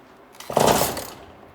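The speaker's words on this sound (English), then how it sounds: "now I'm gonna adjust my high, so that's your revving out." A Husqvarna 136 chainsaw engine, on a newly installed carburetor being tuned at the high-speed setting, revs up sharply to a high, buzzing whine for about half a second, loud and close, then eases back down.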